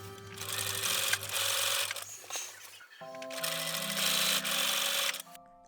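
A sewing machine stitches a dress bodice in two sustained runs, a steady close whirring hum with a brief pause between them and background music underneath.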